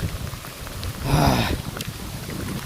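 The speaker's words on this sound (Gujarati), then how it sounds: "તો જોઈ લો વરસાદ વધી ગયો" Heavy rain pours steadily near a parking area in Gujarat, a dense close hiss of drops with a brief louder swell partway through.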